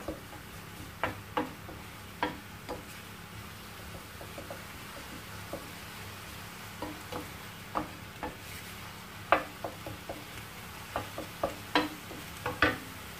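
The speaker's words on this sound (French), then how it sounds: "Je mélange le tout et je laisse revenir mes oignons jusqu'à ce qu'ils deviennent translucides." Onions softening in a pan for an eggplant and minced-meat tajine, a soft low sizzle under a string of sharp utensil clicks and taps against the pan, close and quiet, without speech.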